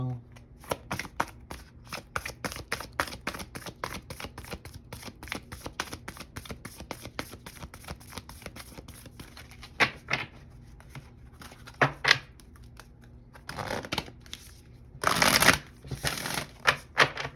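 Tarot cards are shuffled repeatedly in quick riffling bursts, crisp and close, with a few louder flurries toward the end.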